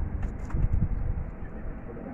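Pigeons on a rooftop coo in low, soft throaty bursts, a few near calls clustered early and then fading, with faint outdoor background noise.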